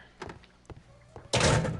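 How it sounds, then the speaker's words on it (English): In a Sherlock Holmes video game, a door opens with a couple of soft wooden knocks and thunks followed by a louder, close, sustained creaking swing. "Open door."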